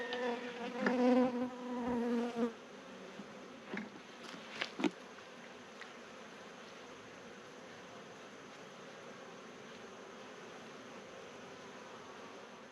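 Honeybees buzz close by around a hive at first with a few louder passes, then settle into a soft, continuous hum for the rest of the stretch.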